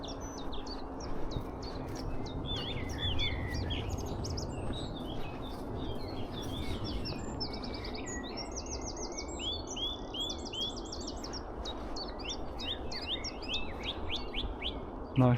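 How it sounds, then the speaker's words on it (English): A song thrush in the dawn chorus on a moor delivers bright, repeated whistled phrases from close by, while other birds chirp around it against a soft, steady outdoor background. "Nice song thrush sitting up there doing its dawn chorus."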